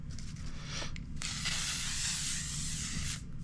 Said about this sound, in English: There's setting spray.